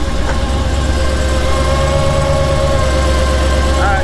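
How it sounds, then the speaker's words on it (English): A 1,200 HP supercharged Demon Trackhawk engine runs loud and steady as heard from inside the vehicle, a deep idle rumble overlaid with a sustained blower whine. "the blower sounds awesome."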